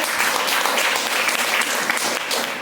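An audience at a marketing plan presentation breaks into dense, sustained applause, many hands clapping steadily at close range with no pauses, alone without speech.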